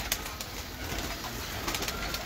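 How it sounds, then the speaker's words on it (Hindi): Senior pigeons coo softly at a breeding loft in Lahore, with low, murmuring calls overlapping in a steady stream nearby. "सब बड़े कबूतर जो सीनियर कबूतर यही है"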